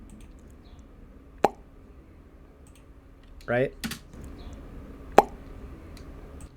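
A homemade pop sound effect recorded on a budget for games or animation; a few sharp isolated pops stand out against quiet room noise, mixed with soft keyboard clicks and a brief spoken word.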